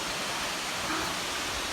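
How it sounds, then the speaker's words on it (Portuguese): A waterfall in a canyon sends up a steady, dense roar of rushing water, continuous and even throughout with no voices over it. "Olha essa cachoeira."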